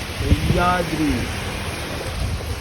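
Heavy monsoon rain pours steadily outside a hotel in the Sahyadri hills near Lonavala, a constant broadband hiss filling the whole clip, with a voice speaking briefly over it near the start.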